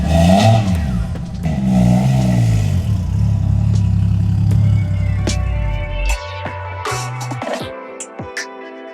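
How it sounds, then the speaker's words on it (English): A car engine in a shop is revved a couple of times. It sounds loud and close, with rising and falling engine tones over the first six seconds, and then drops to a lower idle broken by clicks and clatter. "Give her a couple revs."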